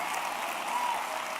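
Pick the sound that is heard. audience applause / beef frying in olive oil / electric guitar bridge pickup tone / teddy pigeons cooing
audience applause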